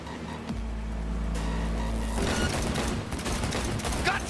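Gunfire rattles in the video game Cyberpunk 2077 during a vehicle chase, with dense bursts of shots over a low engine rumble and loud chaotic noise.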